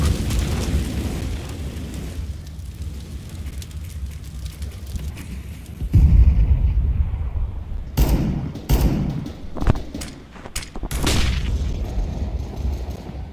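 Flashbang and incendiary grenades go off in a tactical shooter match. Deep booms and sharp bursts land one after another, with a heavy blast in the middle and a flurry of crackling pops and impacts after it, all over a low background rumble.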